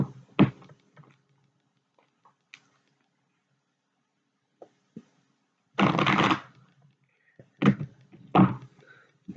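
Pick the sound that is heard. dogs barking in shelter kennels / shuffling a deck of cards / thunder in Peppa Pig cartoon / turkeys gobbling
shuffling a deck of cards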